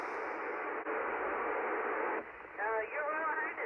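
Radio downlink from the International Space Station, a steady band of hissing static with a warbling tone sweeping through it near the end as Doppler shift moves the signal lower, with no talk.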